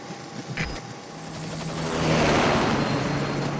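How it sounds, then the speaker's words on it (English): A helicopter in Metal Gear Solid V sets up a steady engine and rotor drone that swells louder midway and then holds, with a short burst of another game noise near the start. "Just get in the chopper."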